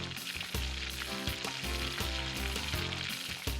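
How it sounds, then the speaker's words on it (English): Food crackles and sizzles steadily in hot oil, a dense close-up frying hiss with occasional pops. "Deep frying required a steady heat source to be able to fry food into a crisp consistency."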